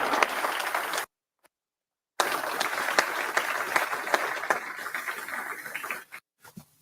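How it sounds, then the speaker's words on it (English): Dense clapping from an audience at a mentoring summit fills the room for a few seconds, drops to silence, then resumes strongly and tapers off into a few scattered claps. "can we give this group, again, a round of applause"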